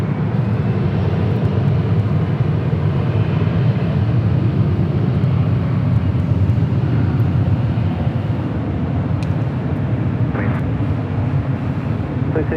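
A jet airliner taking off at Los Angeles International Airport, a steady, loud broadband roar that holds for the whole stretch while radio voices talk over it.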